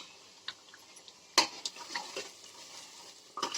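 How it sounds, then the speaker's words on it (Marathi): Masala paste sautéed in hot oil for a Khandesh-style spicy patodi curry, a steady broadband sizzle with a few sharp scraping stirs of the spoon against the pan, close and fairly loud, no voices. "आपण जो मसाला काढून घेतलेला होता तो आपल्याला तेलामध्ये अगदी छान खमंग वास येईपर्यंत छान परतवून घ्यायचा आहे"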